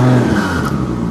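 Engine of a slammed twin-turbo Toyota Soarer on 15-inch wheels, heard up close as a loud, steady, throaty running note that swells slightly, as if being lightly revved.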